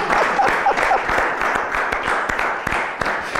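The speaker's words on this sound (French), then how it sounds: "Il s'appelle Davy, merci de l'applaudir très fort." An audience claps steadily for a performer at a comedy show, with a dense, even patter of many hands that continues throughout.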